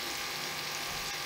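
Spices sizzling as they are dry-roasted in a pan for a ridge gourd (turai) sabzi, a steady, even frying hiss close by with no talking.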